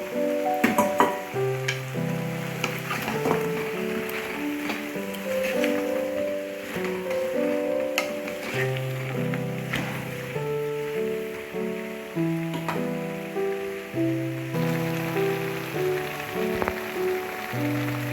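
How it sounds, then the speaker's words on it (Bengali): Vegetables, chickpeas and spices with turmeric frying and being stirred in a pan, a steady crackling sizzle with scrapes from the stirring, under loud instrumental music that runs throughout. "মশলার সঙ্গে সবজিগুলো খুব ভালোভাবে নাড়িয়ে চাড়িয়ে নিয়েছি।"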